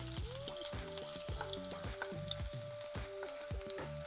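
Oil sizzles and crackles steadily as finely chopped garlic cloves fry in a pan while cooking prawn puttu, with continuous spitting and popping close by.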